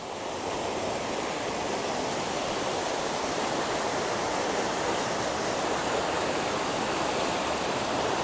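A rushing mountain stream at a water source along the Pacific Crest Trail, a steady, dense roar of flowing water filling the whole clip without a break.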